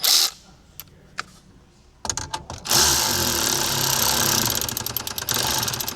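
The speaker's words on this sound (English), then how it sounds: "I'm gonna use my electric ratchet because I've already had my taste of old school" An electric ratchet drives screws on a Ford F-150 AC blend door actuator in a dual climate system, with short sharp bursts at first, then a sustained close, loud whirring run with rapid clicking toward the end.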